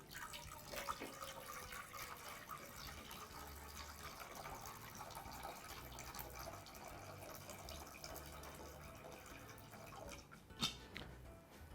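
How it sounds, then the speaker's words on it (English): Water pours steadily into a cooking pot for pasta, a continuous splashing and trickling stream with a few brief drips and clinks, moderately quiet and without talk. "So we'll begin by adding some water into a pot."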